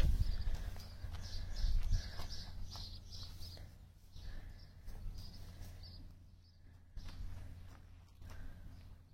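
A gelding pony walks outdoors, its hooves clip-clopping in an uneven rhythm that is loudest early on and softer later, with faint birdsong in the background.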